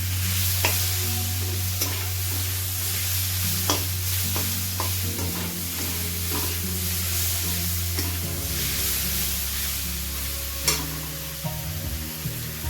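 Mutton pieces frying together in a pan, a continuous close sizzle with scattered clicks and scrapes of stirring and a low steady hum behind it.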